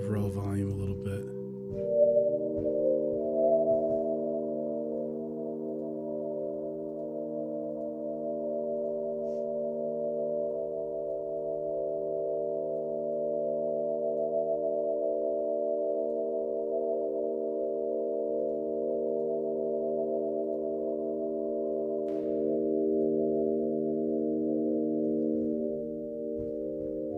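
Steady sustained test tones run through the plate reverb of the Deep Conjuring II plugin, layered in a low, dark, humming chord that holds evenly for nearly half a minute after a brief rougher onset.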